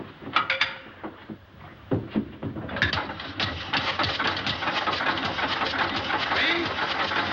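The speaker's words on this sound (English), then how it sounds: "Keep that engine running." An engine runs steadily and rattles, with sharp clanking knocks at first that settle into a continuous mechanical chatter at moderate loudness.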